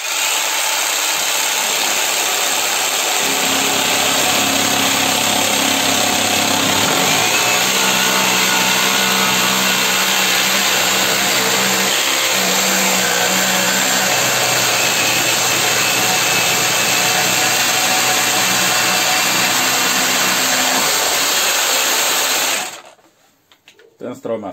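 A Parkside Performance PSSPA 20-Li A1 cordless jigsaw plunge-cuts into a thick worktop, giving a loud, continuous buzzing saw whine that holds for about twenty seconds before cutting out abruptly.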